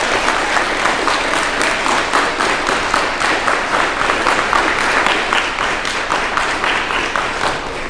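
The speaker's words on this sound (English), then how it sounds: "Let's give your teachers a big round of applause" Steady, loud audience applause for teachers at a school ceremony for eighth graders, dense clapping sustained evenly throughout without talk.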